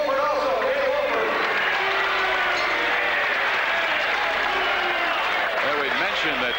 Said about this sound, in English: How about a round of applause for Danny Wofford also?